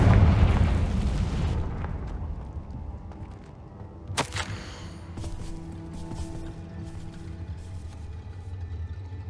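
A Confringo blast spell from Hogwarts Legacy erupts in a loud rumbling burst at the start, followed by a sharp crack midway and a lingering low game ambience.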